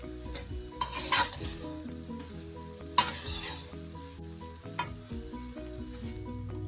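Shrimp and mixed vegetable fried rice is stirred in a hot pan under a soft continuous sizzle, with a few sharp scrapes and clinks of the utensil against the pan.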